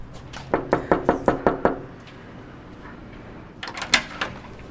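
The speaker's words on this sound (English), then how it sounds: "I'm about to knock on the door to the unit where I think Lisa Rauda Cook lives." A run of seven sharp, evenly spaced knocks on an apartment unit door, loud and close, followed by quiet and then a few scattered knocks and handling sounds near the end.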